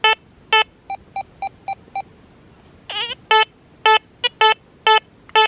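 Target tones come from a Deus 2 metal detector with an HF2 coil at reactivity 2.5 in the 89 kHz band, passing over foil and a small gold ring: a run of short clipped beeps, a wavering warbling burst, then several loud, longer beeps.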